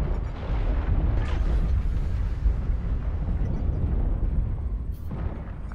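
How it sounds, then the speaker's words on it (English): An incoming missile explosion in MechWarrior Online rumbles as a sustained, heavy, booming roar that holds steady for several seconds, with no talk over it. "Incoming missile."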